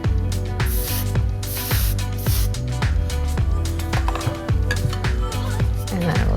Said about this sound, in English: we're gonna finish this mannequin with some dry texture spray